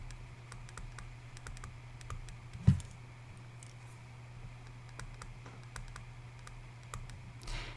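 Keys tapped on a calculator in quick, light clicks scattered over several seconds, faint and close against a steady low hum, with one sharper knock midway.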